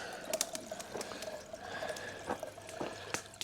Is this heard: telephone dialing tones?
no